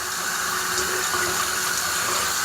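A newly installed bathroom faucet runs a steady stream of water into the sink, a constant close hiss and splash with no pauses.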